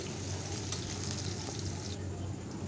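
Chopped onion fries in hot oil with mustard seeds, giving a continuous soft sizzle with faint stirring scrapes, steady and fairly quiet with no voice.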